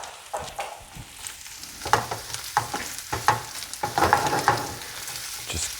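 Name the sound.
crab meat stirred and warming in butter in a pan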